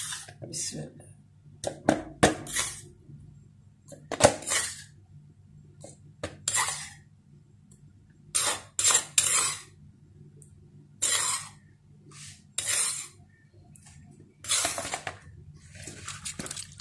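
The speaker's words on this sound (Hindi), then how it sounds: "अब मैं छानने में छानने लगी हूँ।" Blended tomato pulp pressed and scraped through a sieve for homemade ketchup, producing intermittent metallic scrapes and wet clinks in short bursts with pauses between.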